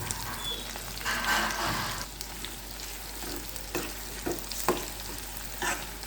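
Whole cloves, cardamom and cinnamon sticks frying with ginger garlic paste in a pan for khichdi, a soft continuous sizzle with occasional crackles and spoon scrapes, fairly quiet.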